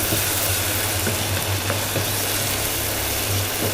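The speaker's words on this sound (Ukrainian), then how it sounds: "Так, це все обсмажується." Steady sizzling of food frying in a pan with about three tablespoons of sauce, a dense crackling hiss with occasional louder pops and a low hum underneath, no voices.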